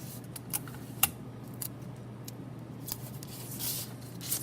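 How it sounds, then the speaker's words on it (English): Strips of tape are pulled and pressed onto a paper piece, taping both sides, giving faint scattered crinkles, sharp little tears and brief rustles close by over a low steady hum. "I'm going to tape that piece onto that"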